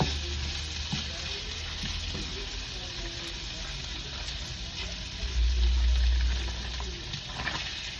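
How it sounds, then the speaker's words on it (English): Cream cheese sizzling and softening in a hot pan while pasta water boils nearby, a soft steady frying hiss with occasional stirring scrapes and a low rumble swelling midway. "I'm going to put the cream cheese in the pan."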